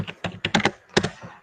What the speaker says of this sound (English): that sounds like a really old computer. It's not. It's just a really old keyboard.